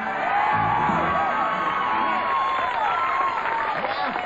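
A 1980s television talk-show studio audience screams and whoops at full volume, a loud, sustained crowd roar with overlapping shrill yells that stays dense from start to finish.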